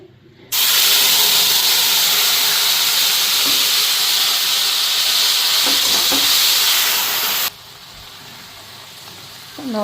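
Spices hit hot oil in a home kitchen with a sudden loud, sustained hiss of sizzling that lasts several seconds and then drops to a quieter background.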